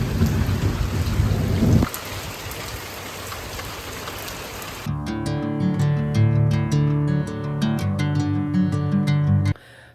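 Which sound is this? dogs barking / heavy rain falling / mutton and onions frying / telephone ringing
heavy rain falling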